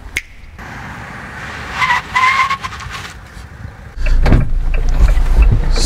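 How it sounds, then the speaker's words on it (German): A Fiat Ducato motorhome chassis makes a cold emergency braking test. Road and wind noise build, then the brakes bite with a brief squeal and a loud rumbling surge as the heavy vehicle comes down hard, with no voices. "Erste Bremsung kalt, Fiat Ducato."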